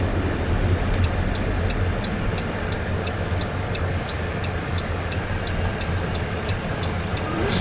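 A car driving along winding Mulholland Drive, heard from inside the cabin as a constant low rumble of engine and tires, steady and loud, with faint regular ticking like a turn signal.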